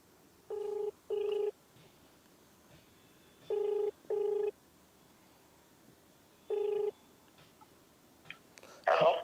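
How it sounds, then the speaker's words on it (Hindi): A telephone ringback tone purrs in paired bursts, two rings then a pause, repeating three times before a rustle and a faint voice. "फोन लग रहा है।"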